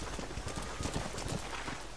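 Horse hooves galloping in Red Dead Redemption, a rapid rhythmic clatter of hoofbeats with no voice over it.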